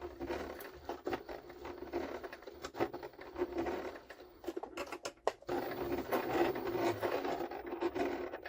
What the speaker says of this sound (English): See the speed at which we are sewing the leather now. This here is the minimum speed.